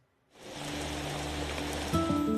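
Irrigation sprinklers shower water over a coffee plantation in the Cerrado of Goiás, a steady rain-like hiss that starts after a brief silence and holds evenly, with a low mechanical hum entering near the end.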